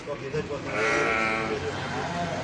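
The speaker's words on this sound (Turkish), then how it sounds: "3 adet sakız melezi koyunlarımız" Sakız crossbreed sheep bleating at an animal market in Tire, İzmir, with several overlapping calls close by, mixed with crowd noise.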